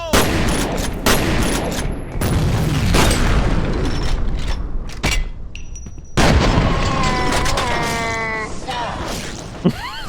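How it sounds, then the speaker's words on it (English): Bursts of loud gunfire and booming blasts from combat in the F.E.A.R. video game, with a grenade going off. Heavy volleys are broken by short lulls, then sharp mechanical clicks and whirring sounds. "Fire in the hole!"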